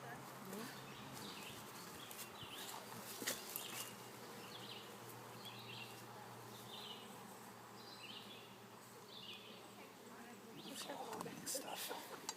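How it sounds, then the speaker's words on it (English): Bees hum and buzz steadily around an opened hive on a summer day, a dense, continuous drone close by, while people talk quietly over it throughout. "And I've got plenty of bees right"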